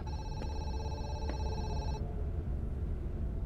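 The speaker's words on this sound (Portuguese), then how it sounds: "É, telefone." In the video game Zoochosis, a telephone rings with two short electronic trill bursts, clear bell-like tones over a low rumbling background, then the ringing stops and only the ambient hum remains.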